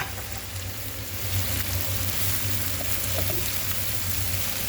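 Sliced vegetables and salad cabbage sizzle in a hot pan for a sweet and sour dish, a steady close hiss with faint stirring clinks and no talking.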